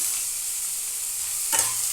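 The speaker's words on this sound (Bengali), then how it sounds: "দিয়ে আমি পেঁয়াজটা ভাজতে বসিয়ে দিলাম।" Onions frying in about a spoonful of hot oil in a pan make a steady close sizzle, with one brief stir or clink near the end.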